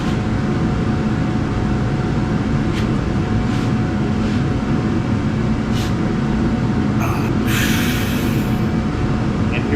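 Carbide-tipped large-tooth saw cutting a piece of Damascus steel, a loud continuous grinding roar with steady mechanical rumble, plus a few sharp high screeches and hissy bursts near the end.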